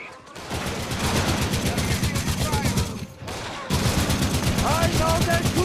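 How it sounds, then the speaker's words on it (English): Soldiers' gunfire in the Company of Heroes 3 video game, sustained rapid bursts of rifle and machine-gun fire, loud and close, breaking off briefly before resuming, with shouting voices over it. "I know they're shooting at us!"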